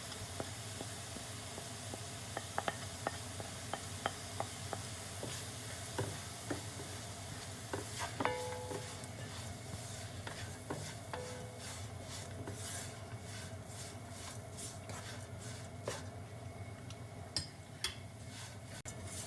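Coriander, chili and turmeric powders stirred as they fry in a pan for a Kerala-style green peas curry, a steady low sizzle with scattered spoon scrapes and ticks, fairly faint and without talk.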